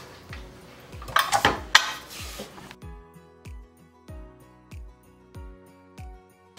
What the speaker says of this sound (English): and our vegetable oil, and we will give this a quick mix